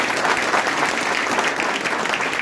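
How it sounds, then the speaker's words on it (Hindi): Steady, dense clapping from a large crowd at a student award ceremony, loud and continuous throughout with no break. "इसलिए एक बार प्रथम क्लासेस के लिए एक बार जोरदार ताली हो जाएगा।"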